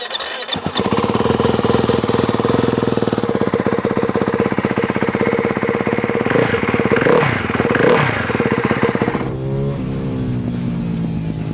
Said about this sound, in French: Bon déjà la moto pétarade beaucoup plus que ce matin comparé à l'origine.